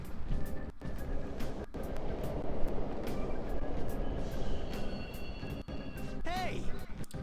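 Subway trains running in the Persona 5 video game, a steady loud rumble and rattle of rail cars with some metallic squeals near the end.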